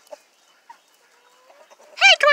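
Chickens eating layer feed give a few soft, scattered clucks close by, ending in a louder burst of squawking calls.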